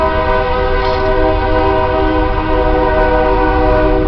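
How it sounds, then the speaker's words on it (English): Continuous roar of a train passing nearby, loud and steady with sustained humming tones and rumbling throughout. "Here comes the train."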